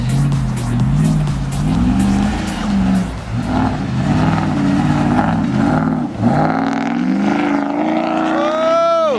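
Pickup truck engine revving hard and roaring loudly while driving off-road, pitch rising and falling with throttle and surging near the end over rough ground.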